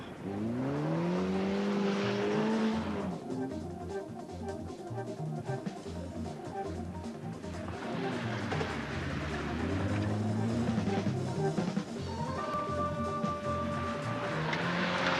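A car drifting under hard acceleration, its engine roaring loud and continuous with rising and falling revs and tyre noise, while a voice talks over it.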